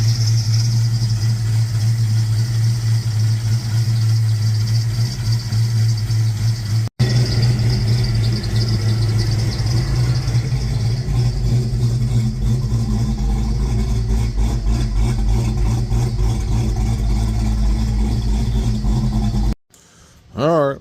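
A 1995 Ford Mustang GT with a 5.0 V8 idles steadily and close, a deep rumbling drone with light clatter, briefly cutting out near the middle and again near the end.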